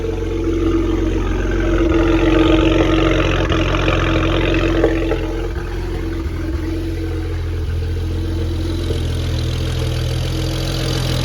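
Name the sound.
BMW 335is N54 engine idling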